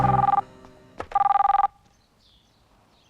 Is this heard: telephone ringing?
yes